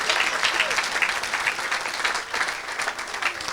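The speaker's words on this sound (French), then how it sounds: "Somebody clap for the Lord." Church congregation clapping for the Lord during a revival service, dense steady applause from a crowd filling the room, with a voice faintly over it.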